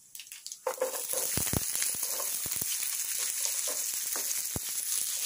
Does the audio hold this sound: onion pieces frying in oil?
yes